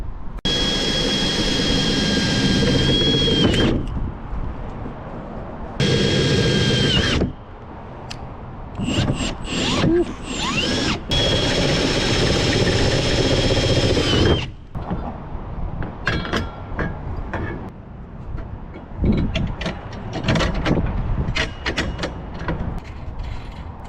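Tightening bolts on a mounting bracket for a 270-degree free-standing awning, heard as loud, close bursts of mechanical whirring and ratcheting, several lasting a few seconds each, separated by short pauses and lighter clicking.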